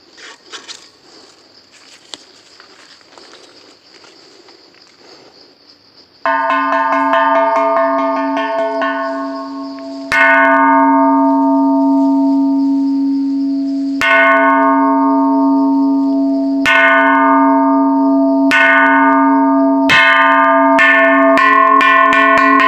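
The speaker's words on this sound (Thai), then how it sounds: "เดี๋ยวตีระฆังก่อนนะครับ" A Buddhist temple bell at Phra That Mon Dip in Samoeng, Chiang Mai, is struck about seven times, each loud ringing stroke overlapping the long decay of the one before, after quiet insect chirping.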